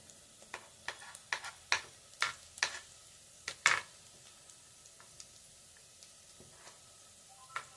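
Onions with garlic-ginger paste frying in a pan, with a soft continuous sizzle punctuated by a dozen sharp spoon scrapes and taps in an irregular rhythm, close and fairly quiet, no talking.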